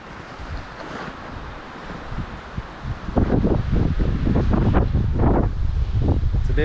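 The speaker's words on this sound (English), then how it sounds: "It's a bit windy" Wind gusts by a lake during a camp stop on a motorcycle trip, starting as a moderate rush and then turning loud and buffeting, with close rumbling wind noise on the microphone and no talk.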